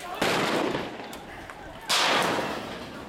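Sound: tear gas canisters being fired

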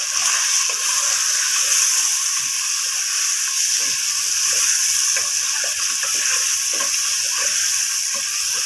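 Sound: mutton karahi frying in a pan

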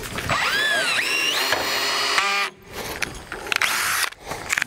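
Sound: impact driver with socket driving bolts

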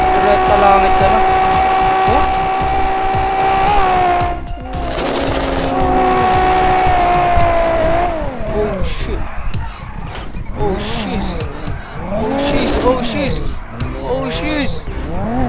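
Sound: turbo Toyota Supra car driving in GTA 5 video game

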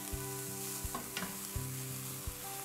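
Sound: pancetta bacon frying until crispy

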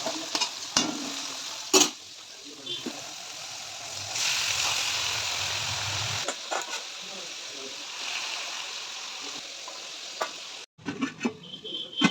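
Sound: frying jhuri bhaja (crispy fried snack) in a pan

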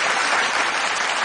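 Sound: audience applause

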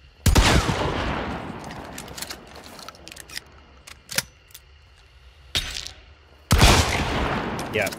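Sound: Romero shotgun firing in video game Hunt: Showdown

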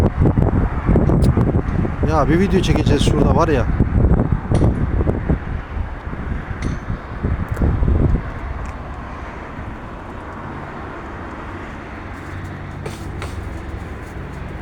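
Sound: wind blowing outdoors

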